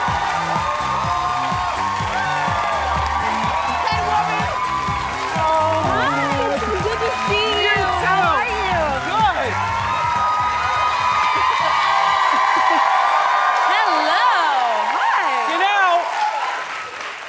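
A television studio audience breaks into sustained applause and cheering as a guest is welcomed onto a talk show, loud and continuous with whoops rising above the clapping before it fades at the end.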